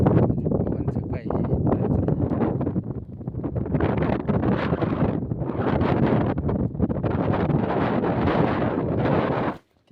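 Wind sweeps across an open farm field where cows and buffaloes graze in the morning, making a loud, continuous, gusting roar that buffets the microphone and drops away abruptly at the very end.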